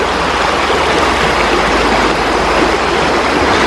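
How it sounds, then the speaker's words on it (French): Broad, steady rush of a wide river running over large stones, loud and continuous with no voices. "elle est large hein, la rivière"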